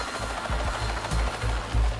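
A helicopter on an Amazon enforcement deployment in Brazil gives a steady, close, heavy rotor thudding with a regular low beat and engine whine.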